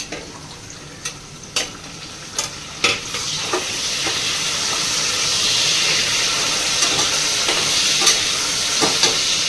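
Curry leaves dropped into hot oil with cooked garlic for khichdi, a close sizzle swelling into a loud, sustained hiss, with regular spatula taps and scrapes stirring throughout.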